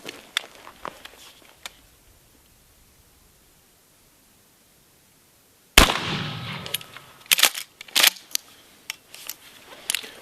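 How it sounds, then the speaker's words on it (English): A defensive shotgun fires at a 10-yard target outdoors, a sharp loud blast after a quiet stretch, followed by several shorter bursts of noise and clatter. "now we're going to try that 10-yard shot with the little bit of center mass that I have to work with on the bad guy"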